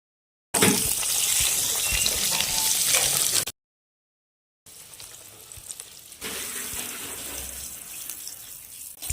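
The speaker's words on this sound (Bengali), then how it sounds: "মটরশুঁটির কচুরি ভাজা হয়ে গেল।" Green pea kachori deep-frying in hot oil, a loud close sizzle in two long stretches split by a brief silence, the later stretch quieter with a watery hiss, no speech.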